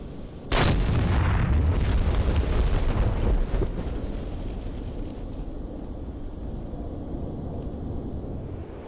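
A bomb dropped from an F-15E Strike Eagle in a combat flight simulator bursts on its target with one sharp, heavy boom, followed by a long rolling rumble that slowly fades.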